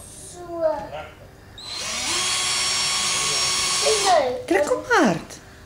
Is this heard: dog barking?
no